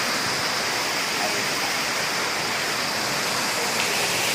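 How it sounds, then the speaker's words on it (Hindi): A waterfall below a temple in Rishikesh, a loud, dense, unbroken roar of falling water heard up close. "क्या वाटरफॉल,"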